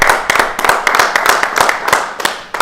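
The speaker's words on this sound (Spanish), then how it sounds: "Un aplauso para todos ustedes." An audience claps in a steady rhythmic beat, sharp repeated hand claps close and fairly loud, with no voices over them.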